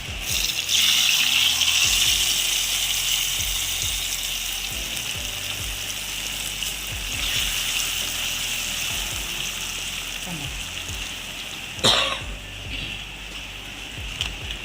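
Hot oil with browned garlic poured into tomato pickle gives a loud, close hiss and sizzle that starts strong, then settles into a steadier fizz, with a brief clatter near the end.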